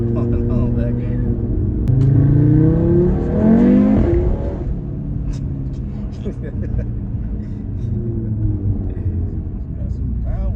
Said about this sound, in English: Got the pops going on back there.